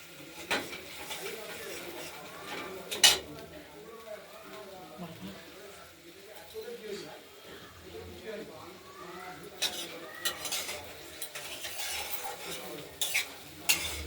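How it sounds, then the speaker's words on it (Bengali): Tomato being stirred and mashed into a sizzling pabda fish curry with potato and coriander: a utensil scrapes and clinks against the pan in irregular strokes over a soft simmer, while someone talks throughout. "টমেটোটাকেও গলিয়ে মিশিয়ে দেওয়া হবে"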